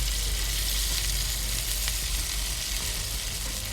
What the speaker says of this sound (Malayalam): ഇനി നമുക്കൊരു പാൻ വെച്ച് അതിലേക്ക് കുറച്ച് ഓയിൽ ഒഴിച്ച് ഈ കട്ട് ചെയ്തെടുത്ത ഇഡ്ഡലി എല്ലാം ഒന്ന് ഫ്രൈ